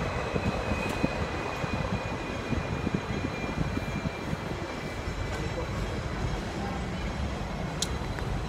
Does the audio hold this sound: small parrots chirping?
no